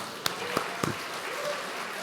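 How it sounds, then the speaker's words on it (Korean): A church congregation at a Friday worship service breaks into brief, faint scattered clapping, a few separate claps in a large room with a murmur of voices. "박수."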